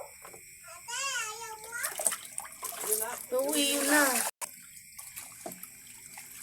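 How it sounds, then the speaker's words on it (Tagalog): Tap water poured into a pot of rice for washing, a running splash under a child's and an adult's voices, with a sharp cut partway through. "lagyan na uli ng tubig"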